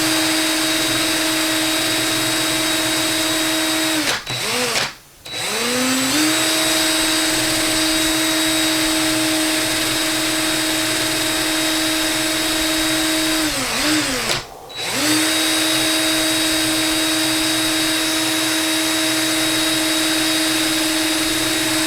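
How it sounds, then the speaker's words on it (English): A power drill whines steadily at a constant pitch while cutting thin horizontal cork rings, cutting out briefly twice before spinning back up, close and loud with no talking. "Sorry for the drill noises."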